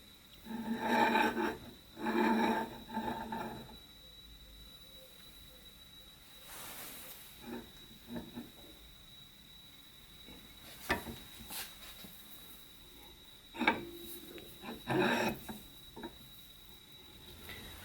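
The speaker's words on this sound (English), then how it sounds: "I thought before I put it on the rotary table on the mill I'd broach this keyway" A 1/8 inch keyway is broached by hand into a hit-and-miss engine flywheel with mild steel on the cutting side, giving several rasping scraping strokes, some grouped in pairs, with quiet pauses and small clicks between them, close and fairly soft.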